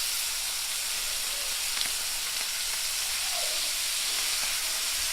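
Steaks searing in a hot pan just after flipping give off a steady, close, even sizzle and hiss that holds throughout with no talking.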